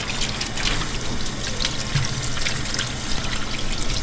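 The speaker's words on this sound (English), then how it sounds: "Rinsing all the slime off the fish." Running water pours steadily from a tap to rinse slime off freshly caught Pacific mackerel, a continuous close splashing and trickling with no talk over it.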